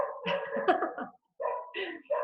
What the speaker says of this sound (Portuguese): a participação especial dos cachorros